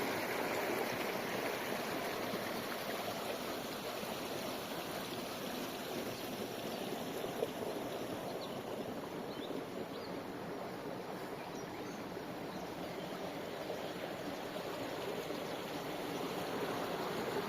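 Spring water pours steadily into a small pond in the Chernivtsi region, a continuous broadband rush of flowing water at even loudness throughout, with no voices.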